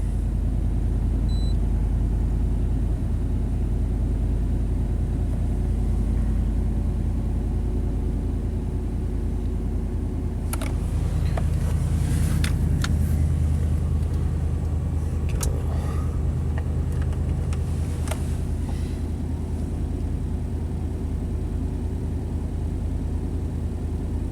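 A 1991 Chevy K1500 pickup engine runs at a steady idle after a new engine computer is fitted, a continuous low rumble close by with a few brief clicks and knocks partway through.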